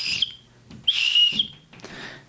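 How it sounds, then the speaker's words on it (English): Whistle built into a Sharpal 6-in-1 knife sharpening tool, blown by mouth in three short shrill blasts, close and loud, with the middle one longest and a fainter breathy final toot. "it's a whistle for signaling or communicating"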